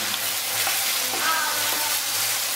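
Chicken in sesame paste frying in a pan, a close, even sizzle with soft stirring scrapes under it and no voices.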